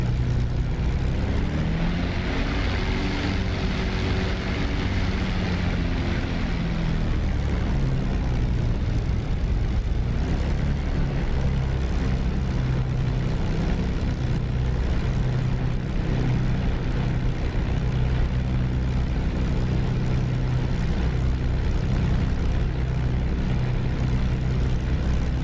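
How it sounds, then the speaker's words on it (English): A P-51 Mustang's propeller engine in the DCS flight simulator drones steadily and loudly throughout, with a rising, shifting engine tone early on as it powers up for takeoff. "Let's go take off, and then we'll do a little flight around, and we'll come back."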